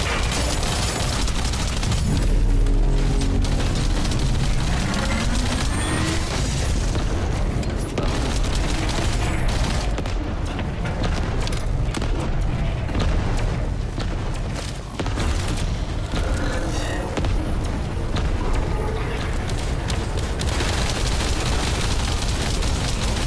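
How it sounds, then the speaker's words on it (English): Dense, loud gunfire in the shooter game The First Descendant, a continuous barrage of shots and booming blasts filling the whole stretch with little letup. "Gun is firing loud."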